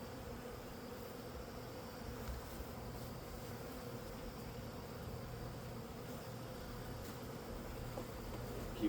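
Package honeybees being installed into a hive produce a steady, dense outdoor buzzing from many insects. The drone is continuous and fairly faint, with no voices.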